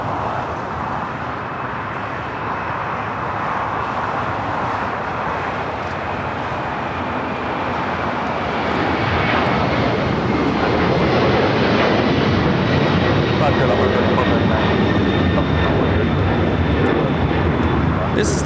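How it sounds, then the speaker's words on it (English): LATAM Airlines Boeing 767-300ER taking off from Los Angeles for Lima, a loud jet roar that builds and swells midway, with whining engine tones and a voice talking throughout. "This is Latam Airlines 2479 taking off to Lima, Peru on the 767-300ER."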